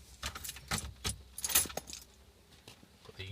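Keys jangle close up as they go into the ignition of an Audi car, a run of bright metallic clinks and rattles with short pauses and no talking.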